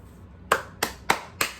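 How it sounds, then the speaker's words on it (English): Four sharp, evenly spaced hand claps ring out close and clear in a quiet room, each a crisp isolated smack with nothing else around them. "Gotta give y'all a round of applause."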